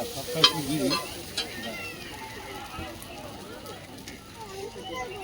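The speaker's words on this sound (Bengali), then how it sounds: "চাউমিন রেডি হচ্ছে" Chow mein sizzles and is stirred in a pan at a food stall at a village fair, with steady frying noise and a few utensil knocks under murmured crowd voices.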